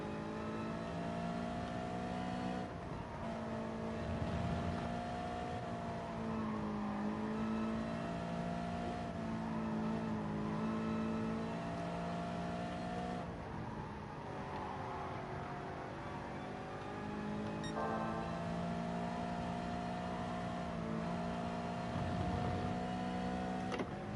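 Race car engine held at high revs in GT Sport after a downshift to third gear, a sustained whining drone with shifting pitch, steady and unbroken, with no one speaking.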